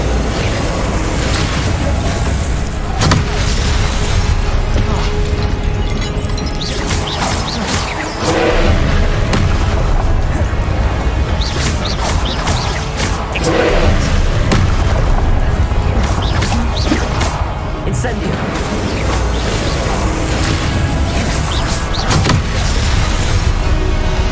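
Confringo blasting spells go off in Hogwarts Legacy, loud booming explosions recurring every few seconds over a continuous roar of game action and effects, with no break in the din.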